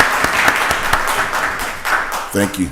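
A room of people applauding at a county board of commissioners session, continuous brisk clapping throughout, with a voice briefly coming in near the end.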